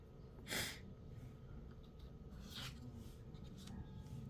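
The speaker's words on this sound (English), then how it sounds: "Sorry for the sniffling." A couple of brief, soft sniffles close by, separated by quiet background hiss.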